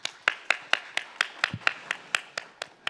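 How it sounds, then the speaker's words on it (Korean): Audience at a policy forum on the Gangwon Winter Youth Olympics clapping to welcome a speaker, heard as a slow, even series of single claps, fairly faint and regular. "박수로 맞이해 주십시오."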